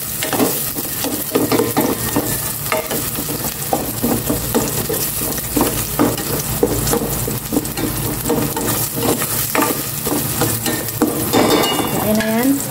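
Onion sautéing in a pan for creamy beef and mushroom, a steady close sizzle with frequent scraping and stirring clinks of a utensil against the pan throughout, no talking.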